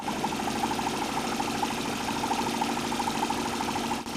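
Homemade Stirling engine mounted on a bicycle runs steadily, giving a continuous, even mechanical hum with a fast repeating pulse throughout, close and fairly loud, with no talk.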